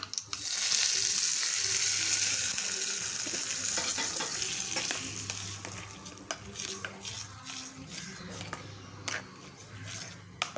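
Hot oil tempering with curry leaves crackles and sizzles steadily as it is poured onto chutney, with scattered sharp pops and a few scraping clicks near the end, close by.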